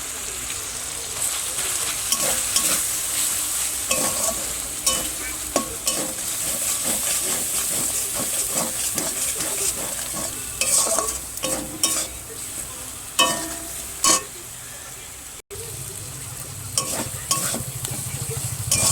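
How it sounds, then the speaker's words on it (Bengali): Salt, chili powder, turmeric and meat masala sizzle and hiss in hot oil in a pan, with constant frying noise broken by frequent scraping and clinking stirs of a spoon, close and loud throughout. "আর একটু সুন্দর করে কষিয়ে নেব।"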